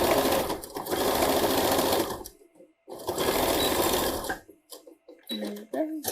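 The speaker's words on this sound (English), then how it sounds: "I only have a little section to sew." A sewing machine stitching an invisible zipper on a vintage jumper runs in two steady, close bursts with a short pause between them, and a voice is briefly heard at the end.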